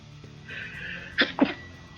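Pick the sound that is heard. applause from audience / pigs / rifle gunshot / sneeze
sneeze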